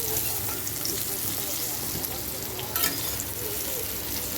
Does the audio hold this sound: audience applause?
no